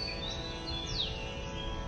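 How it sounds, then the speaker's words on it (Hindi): Birds chirp faintly on a morning during light drizzle, thin high tweets and one short downward whistle over a steady low background hiss. "चिड़ियों की चहचहाट"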